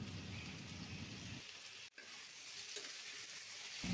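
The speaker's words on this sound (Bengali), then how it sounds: "সবজিটা হালকা ভেজে নেব" Diced potato and eggplant fry in hot oil with slit green chilies, giving a steady, soft, rain-like sizzle. One sharp click briefly breaks the hiss, and no voices are heard.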